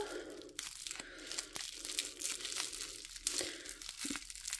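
Close crinkling and crackling of bubble wrap being handled and slid, in bursts of rustling with brief pauses between.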